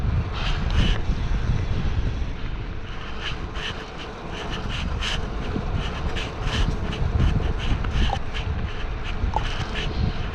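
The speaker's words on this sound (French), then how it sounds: "il y a beaucoup de vent, c'est chiant." Wind buffeting the microphone while riding a Decathlon Elops Single Speed 500 bicycle, a heavy low rumbling roar that gusts unevenly throughout, with faint chirpy squeaks above it.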